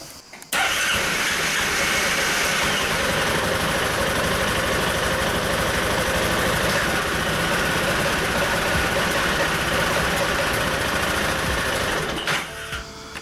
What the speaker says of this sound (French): Nous allons démarrer le véhicule.